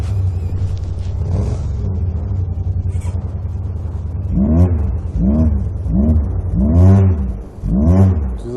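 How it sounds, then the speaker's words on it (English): A sport motorcycle engine idles, then revs repeatedly in sharp rising and falling bursts, loud and close, with no talking. "Sounds like a sport bike."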